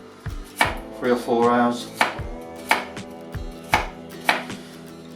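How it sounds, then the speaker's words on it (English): A knife chops beef into thick pieces on a board, with about seven loud, crisp thunks at a steady pace, and someone talks briefly between cuts. "cutting these pretty thick"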